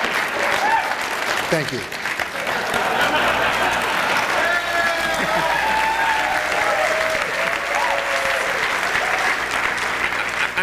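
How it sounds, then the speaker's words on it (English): An audience at a 2008 Libertarian Party presidential debate applauds loudly and steadily throughout, with a voice briefly saying thanks and some crowd voices mixed into the clapping. "I'm tempted to just let you applaud for the rest of this 1 minute"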